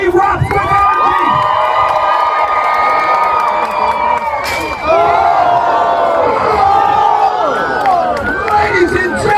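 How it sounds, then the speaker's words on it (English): A loud crowd at a Renaissance fair joust roars and cheers continuously, with shouting and whoops layered over a sustained wall of voices, briefly dipping midway before surging again. "And the crowd erupts with energy."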